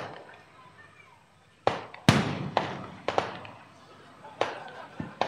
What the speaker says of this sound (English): It's interesting how people in India celebrate Diwali with so many fireworks.